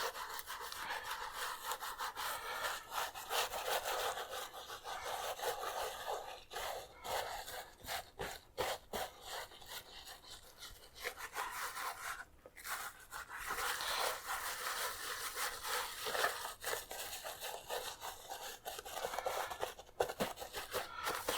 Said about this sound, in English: So I'm going to give this now a good rub.